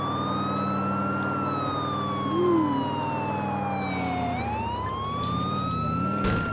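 A vehicle siren wails in the video game GTA IV: The Lost and Damned, a loud electronic tone sweeping slowly up and down over several seconds above steady engine and traffic noise.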